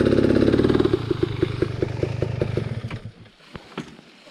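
A Beta 300 two-stroke dirt bike engine chugs nearby with a rhythmic, pulsing idle, then fades and drops away toward the end, leaving a few clattering knocks.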